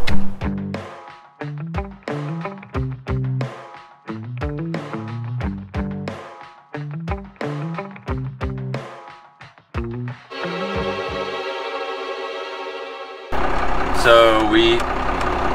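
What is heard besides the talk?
1932 Studebaker car engine running and pulling along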